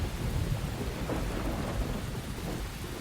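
Heavy rain pours down in the video game Deadly Premonition while deep thunder rumbles, a loud dense roar filling the whole stretch without any speech.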